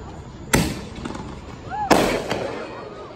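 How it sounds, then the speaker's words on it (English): Two sharp Fourth of July firework bangs go off by a road a little over a second apart, each trailing a crackling rumble, with a faint whistle between them outdoors. "I'm finna show y'all some fireworks."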